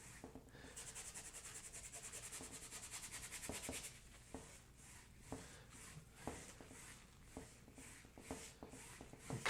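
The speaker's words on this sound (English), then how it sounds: "I'm kind of scrubbing it right in." Brush scrubbing an oil paint glaze onto canvas, a soft steady rubbing that turns into quick, faint, uneven strokes, close up with no talk.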